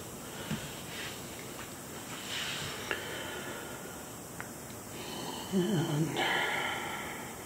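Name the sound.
puppy snoring in an art studio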